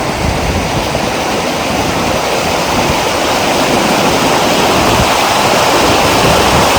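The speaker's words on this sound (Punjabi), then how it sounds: "ਇੱਕ ਆਹ ਨਦੀ ਵਗ ਰਹੀ ਆ" A river in the valley on the road from Leh to Nubra, near Khalsar, rushes in a loud, continuous, close wash of water noise that stays even throughout, with no voices.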